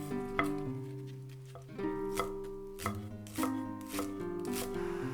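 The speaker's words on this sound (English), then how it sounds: "Mince 2 spring onions." A knife mincing two spring onions on a cutting board, chopping in quick irregular bursts of sharp taps over a soft, steady musical bed.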